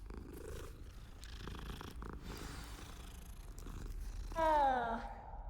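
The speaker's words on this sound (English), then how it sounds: "Time to pet a cat first." A cat purrs while being petted in Hogwarts Legacy, a steady low rumble throughout with background ambience and music, ending in a louder meow-like rising call near the end.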